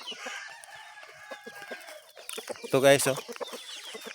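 Shamo crossbreed chickens cluck in short bursts near their coops, then a rooster crows loudly close by; someone speaks briefly over the birds.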